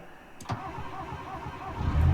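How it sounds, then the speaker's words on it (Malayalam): A truck engine in a driving video game cranks and fires within half a second, then settles into a throbbing idle that swells louder toward the end. "നമുക്ക് ആദ്യം എൻജിൻ സ്റ്റാർട്ട് ചെയ്യാം."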